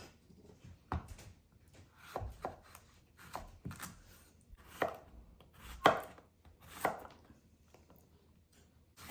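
A knife chops zucchini on a cutting board during vegetable prep for a beef stir fry. About a dozen distinct, close knocks come at an uneven, unhurried pace with quiet pauses between them.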